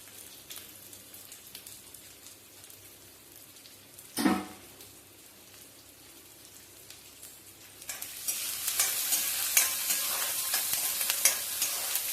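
Onions frying in a pan with dried chillies, tamarind and garlic, a soft low sizzle for the first seconds, one brief clunk, then a louder, brighter crackling sizzle from about eight seconds on.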